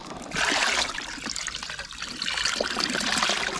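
Water pouring and trickling out of a container of freshly caught clams gathered in a river, a steady splashing drain that runs the whole time, close and fairly loud with no talk.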